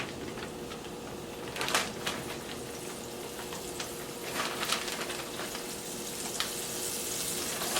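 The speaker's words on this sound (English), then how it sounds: "Make sure your shrimps are coated, and then place them in the same grease." Shrimp sizzle as they fry in hot grease, with a steady crackling hiss throughout and a few sharper pops and spits along the way; no one speaks.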